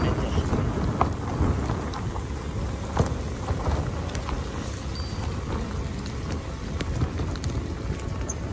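Sudden heavy downpour hitting a delivery rider in Chiba, Japan, during a summer cloudburst: dense, steady roar of rain lasting throughout, loud and close, with occasional sharper drop impacts and a low rumble underneath.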